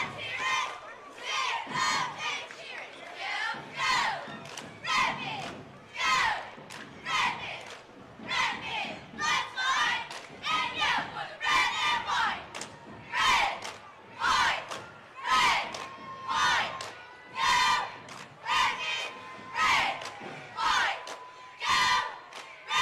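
Crowd at a Memorial Day parade in Ironton cheering and shouting for the Rock Hill cheerleaders, loud rhythmic chant bursts repeating steadily with brief pauses between.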